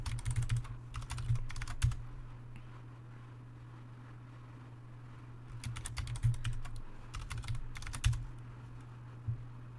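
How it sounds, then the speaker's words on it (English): A password is typed on a computer keyboard in two quick bursts of rapid key clicks separated by a pause, close and quiet over a low steady electrical hum. "Type the password."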